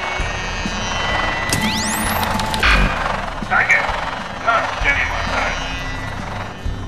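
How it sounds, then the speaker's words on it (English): A police drone hovers in the VR game The Secret of Retropolis, a steady whirring engine drone with a rising whistle sweep and clanks, voices talking over it. "It's a police drone."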